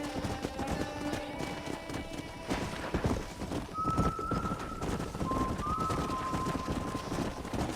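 Hooves of a stallion clip-clopping at a steady run in the Red Dead Redemption video game, with an occasional whinny and faint bird calls in an open outdoor setting, carrying on at moderate volume.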